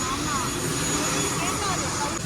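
A steady engine roar from an airplane fills the clip, a broad droning hum with faint tonal whines, continuous and fairly loud.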